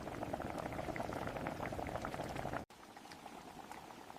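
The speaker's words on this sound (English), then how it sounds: "I watch the water boil." Water boiling in a pot on a kitchen stove, a steady close bubbling and crackling that goes on throughout, with a short dropout partway through.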